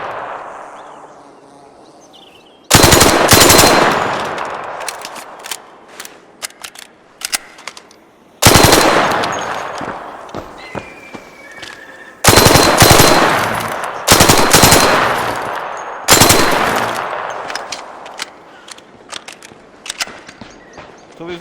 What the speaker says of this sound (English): This guy's a little SMG, and this thing's fully automatic.